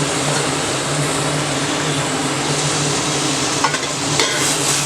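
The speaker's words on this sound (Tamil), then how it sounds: "தக்காளியை போட்டு நல்லா வதக்கணும்." Ground tomato paste sautéing in a pan for tomato rice, a steady broadband sizzle with a low hum underneath and a few faint scraping stirs near the end, close and continuous.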